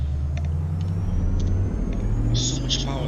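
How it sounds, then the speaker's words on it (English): A heavy truck engine in the video game Euro Truck Simulator 2 rumbles steadily with a thin, rising turbo whine on top, and brief hissing bursts near the end. "And I love the sound of the turbo."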